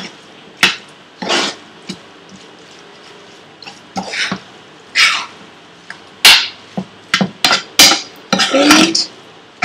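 A spoon scrapes and clatters in a pan while Indian-style beans are stirred, giving irregular, sharp strokes up close with brief pauses and no speech.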